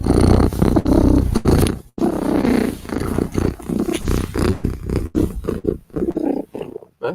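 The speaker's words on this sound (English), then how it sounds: "if Cat is purring" A pet cat purrs close up with a loud, rough, rumbling vibration. The purr comes in rhythmic pulses with short gaps between breaths.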